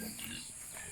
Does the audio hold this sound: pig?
yes